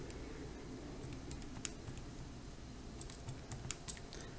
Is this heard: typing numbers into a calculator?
yes